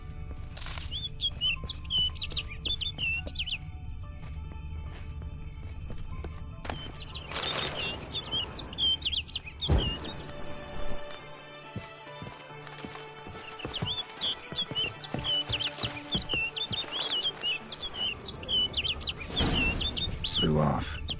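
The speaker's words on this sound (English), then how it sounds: "Looks like the bird's leading me somewhere." Birds chirp repeatedly in The Witcher 3: Blood and Wine, the bright calls coming in bursts over a steady background of game ambience, with horse hoofbeats at times.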